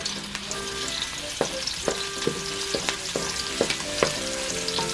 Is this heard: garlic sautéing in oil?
yes